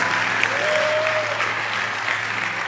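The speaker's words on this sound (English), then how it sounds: "I think that deserves another round of applause." An audience claps steadily throughout, with a dense, even wash of applause and no clear peaks. A brief tonal sound surfaces faintly within the clapping.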